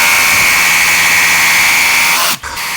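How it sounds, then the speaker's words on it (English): A jigsaw cuts through wood to open a handle hole in a wooden crate, giving a steady, loud, high-pitched motor whine that holds nearly three seconds before the blade stops abruptly near the end. "then we're going to connect them with my jigsaw"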